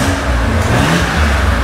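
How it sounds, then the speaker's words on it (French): A car engine fitted with a 123 ignition distributor is revved in a short, loud burst of throttle close by. "Donc là vas-y mets des coups de gaz."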